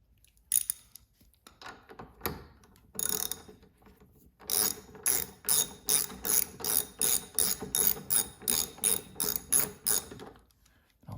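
A ratchet clicks in rapid repeated bursts while tightening a 7/16 bolt on a Toro Power Clear 621 QZE snowblower, starting with a few scattered strokes and then a long, steady run of evenly spaced cranks, close and crisp.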